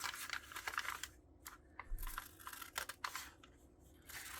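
Scissors cutting a hat pattern shape out of paper, close crisp snips and rustling in irregular bursts with short pauses, no talking.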